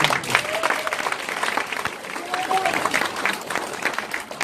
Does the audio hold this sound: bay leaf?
no